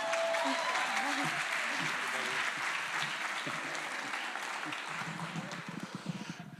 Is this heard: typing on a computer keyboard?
no